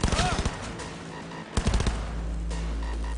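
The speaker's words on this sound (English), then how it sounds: "Heard shots." Gunfire from a firefight in Cyberpunk 2077, with rapid bursts of shots at the start and again midway, then a steady rumbling background, while a voice talks over parts of it.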